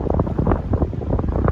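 Cold wind buffets outdoors by the water at a fishing spot, a loud, continuous low rumble of gusts hitting close and steady throughout, with no voices.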